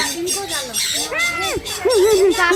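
Birds perched on visitors' hands let out loud, close squawks and warbling calls, several overlapping cries in quick succession over a noisy crowd.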